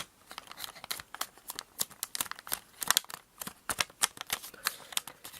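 Paper being creased and folded by hand for an origami spiral envelope, a close series of crisp crinkles, snaps and rustles in irregular clusters.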